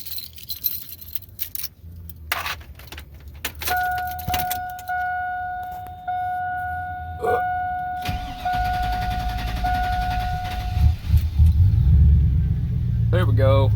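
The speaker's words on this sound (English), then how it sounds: "Make sure the truck starts." A truck with a hesitation issue, after a fuel filter change, cranks and starts, then settles into a steady rumbling idle with tonal whine, preceded by keys jangling and handling noises, close and fairly loud.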